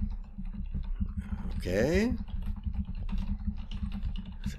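Quick clicking keystrokes on a computer keyboard run steadily and close throughout, with a person talking briefly over the typing partway through.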